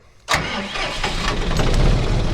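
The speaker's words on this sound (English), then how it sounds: "We'll fire the tractor back up" A tractor engine cranks and catches with a sharp onset, then settles into a steady, loud running rumble close by, with no talk over it, after a three-point hitch is locked back in place.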